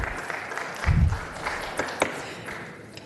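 Brief, scattered clapping from an audience at a city council meeting, swelling for about a second and then fading into faint room noise.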